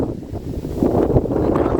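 Strong wind buffets the microphone in low, rumbling gusts, with a rushing roar that swells and never lets up.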